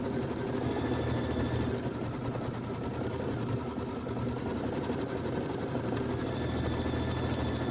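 A sewing machine runs steadily while stitching a traditional pieced quilt block, a close, continuous mechanical whir with a fast even needle rhythm and no pauses.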